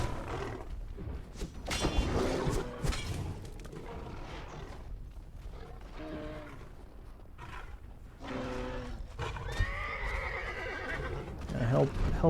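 A horse neighs and whinnies in a video game battle, with hoof clatter and other creature roars mixed into a busy, loud soundscape alongside talking.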